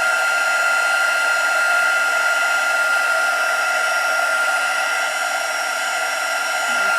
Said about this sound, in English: you can follow the swirl with your heat gun.